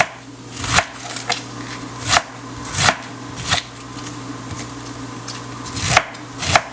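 A knife thinly shreds cabbage on a cutting board, landing six sharp chops at uneven intervals with a soft crunch and scrape of leaves between them, close and clear, with no voices.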